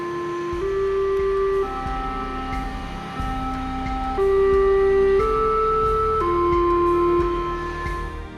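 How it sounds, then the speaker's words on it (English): A Westminster chime all-clear signal for a chemical facility plays a slow sequence of sustained, bell-like electronic tones, each note ringing into the next at a steady moderate level, with no voices. "The all-clear alarm is a Westminster signal that sounds like this."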